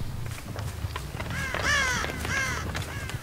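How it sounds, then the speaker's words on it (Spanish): Crows caw in the Dead by Daylight video game, two or three harsh calls close by over a low, rumbling game ambience. "Putos cuervos, no oigo, calla."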